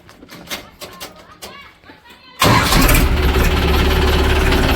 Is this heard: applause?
no